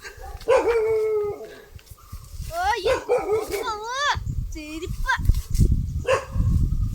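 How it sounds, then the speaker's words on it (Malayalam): A dog barks and yips several times nearby, mixed with whining, while people talk over it in a noisy outdoor setting. "വാടാ പട്ടി അഴിഞ്ഞു വരുവാടാ"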